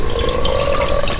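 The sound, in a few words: pouring vinegar into a cast iron skillet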